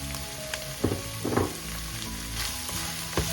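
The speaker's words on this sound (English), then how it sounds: "Saute those carrots as well." Carrots for chicken noodle soup sizzle in a hot pan, a steady frying hiss punctuated by a few sharp spatula scrapes and clinks, close up with no voices.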